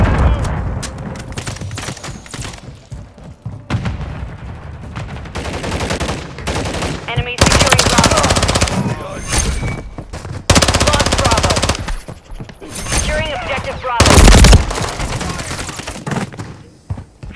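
Bursts of automatic rifle fire and scattered shots in Call of Duty: Modern Warfare III, loud and close, alternating with quieter stretches, with game voice callouts and in-game chatter between and under the firing.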